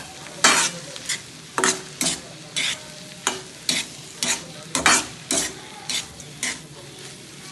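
Fried chicken tossed in a hot pan, about a dozen rhythmic stirring scrapes over a constant sizzle, close and clear with no talk.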